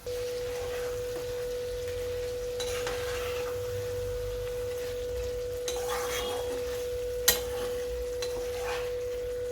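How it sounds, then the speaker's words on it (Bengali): Meat cooking in a covered pan on a low gas flame, a steady soft sizzle with occasional scraping stirs and one sharp clink partway through. "মাঝে মাঝে আমি ঢাকা খুলে মাংসটাকে একটু নাড়াচাড়া করে দিলাম"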